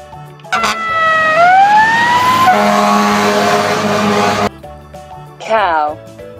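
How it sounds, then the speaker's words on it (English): A toy fire truck siren wails loudly and close, rising in pitch and holding a steady blare for several seconds, then cutting off, followed by a brief descending electronic warble. "Fire Truck."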